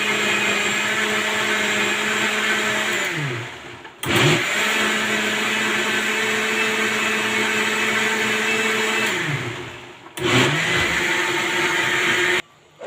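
Crepe batter seasoned with salt and black pepper whirs in an electric blender, loud and steady, cut off twice as the motor winds down and then starts up again.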